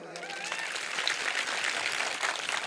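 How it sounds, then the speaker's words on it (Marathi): Audience applause at a live Marathi motivational speech by a professor, a dense steady patter of many hands filling the hall, fairly loud and sustained throughout with a sharp burst at the very end. "एकदा पुन्हा जोरदार टाळ्या हो द्या."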